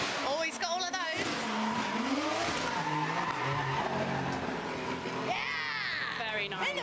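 A car at the Goodwood hillclimb makes a handbrake turn into a parking bay, with loud tire squeal and skidding bursts over engine noise, while commentators talk over it.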